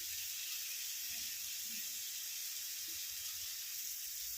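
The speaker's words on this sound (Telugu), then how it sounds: "ఇప్పుడైతే ఉడికిచ్చిన బీన్స్ కూడా వేసుకుంటున్నాను కర్రీ అయితే వేగుతుంది" Curry with boiled beans frying in a pan, a steady soft sizzle and hiss with occasional faint stirring bumps, heard alone without talk.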